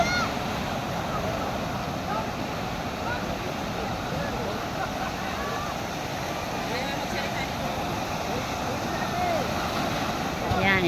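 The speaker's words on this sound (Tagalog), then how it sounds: "lumaki na naman po ang alon" Rough ocean waves surge and wash steadily near a seaside shore under gusting wind, a constant loud roar with no break.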